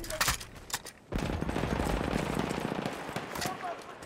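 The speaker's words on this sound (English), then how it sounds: "That's an enemy shotgun." Enemy gunfire in a Battlefield 1 Domination match on PS4: a few sharp shots, then a sustained rattling barrage, loud and close, with voices talking over it.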